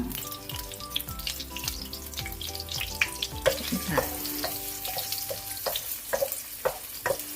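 Garlic sizzling and frying in a pan with steady crackle and repeated stirring scrapes, the start of a stir-fry of cauliflower with shrimp, close and clear with no talking.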